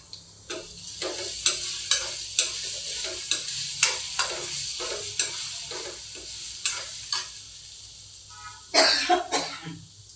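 Papaya pickle with asafoetida is sautéed in a pan, a spatula scraping in regular strokes over a low sizzle, with a cough breaking in near the end.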